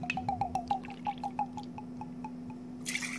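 Two ounces of liquid poured into a cocktail glass, heard as a quick run of close, ringing drips and trickles that slow and thin out, over a low steady hum.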